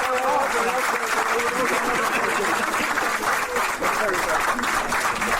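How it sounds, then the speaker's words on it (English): Sustained applause from a crowd, steady throughout, with a voice speaking over the clapping. "je vais encore des applaudissements pour Roby et Mélanie."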